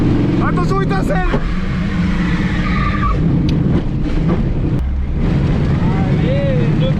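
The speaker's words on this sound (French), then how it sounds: "Allez, le burn statique!" A Peugeot 206 revs hard during a static burnout in a field, the engine roaring and screeching against tire squeal and wind buffeting, while excited voices shout over it.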